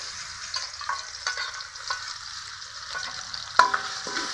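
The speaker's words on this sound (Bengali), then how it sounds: "চিংড়ি মাছ ভাজার জন্য কড়াইয়ে তেল দিব।" Prawns sizzle in hot oil in a wok, making a steady, moderate hiss with a few metallic clinks from utensils near the end.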